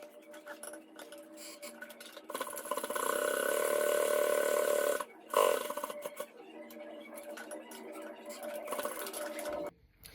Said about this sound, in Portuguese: Feito isso, a gente desvira e costura aqui para alinhar todo mundo.